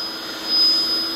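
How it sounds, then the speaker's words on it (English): A small turbomolecular vacuum pump on a Varian Saturn 2000 GC/MS mass spectrometer runs with a steady, high whining hum and airy whir, continuous and fairly close, with no talking. "But that is a turbomolecular pump."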